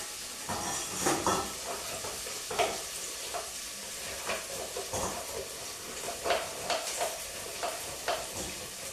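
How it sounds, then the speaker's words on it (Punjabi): Onions sizzle steadily in a hot pan, a soft continuous frying hiss broken by regular stirring scrapes and faint clinks of a utensil, quiet and close with no talking. "ਉਧਰ ਪਿਆਜ਼ ਚੰਗੀ ਤਰ੍ਹਾਂ ਭੁੱਜ ਜਾਣਗੇ"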